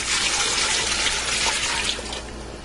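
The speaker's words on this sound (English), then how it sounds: "I'm also going to add in roughly about 8 cups of water." Roughly eight cups of water pour steadily into a Dutch oven pot holding boneless, skinless chicken breast for Italian wedding soup, a continuous close, loud gushing splash with no talk.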